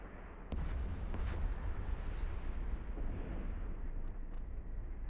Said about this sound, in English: Oh, I love that explosion.